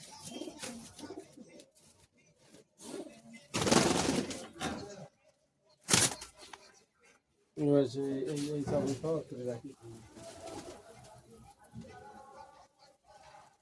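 Madras pigeon coos sound in low murmuring bursts amid people talking nearby, broken by a couple of sharp bursts of noise.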